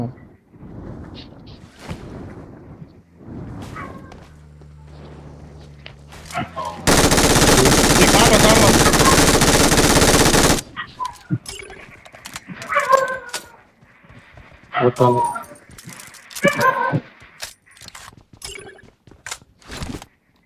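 Sustained machine gun fire in a video game erupts as one loud, dense burst of several seconds, set between stretches of game sounds and chatter.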